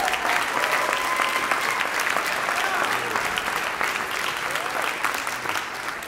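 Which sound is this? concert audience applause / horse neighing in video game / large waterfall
concert audience applause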